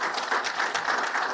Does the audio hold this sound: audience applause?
yes